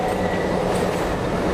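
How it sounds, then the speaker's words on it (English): Alishan Forest Railway narrow gauge train in Taiwan, a mountain line built in 1912 to haul cypress and Taiwania timber, giving a continuous loud rumble of rolling carriages with a steady mechanical roar and faint wheel clatter. "the best way to view them is via the spectacular Alishan Forest Railway, the jewel of Taiwan's narrow gauge rail network"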